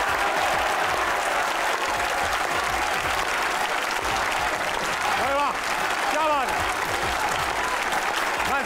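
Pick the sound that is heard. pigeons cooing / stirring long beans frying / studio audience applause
studio audience applause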